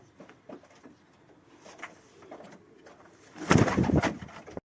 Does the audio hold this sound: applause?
no